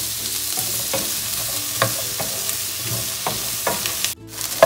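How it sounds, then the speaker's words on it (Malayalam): Capsicum stir-frying in a pan for a prawn stir fry, a loud continuous sizzle broken by repeated scraping stirs, ending in a brief clatter. "അപ്പോൾ നമ്മുടെ ക്യാപ്സിക്കോ ഒന്ന് ഫ്രൈ ആയിട്ടുണ്ട്"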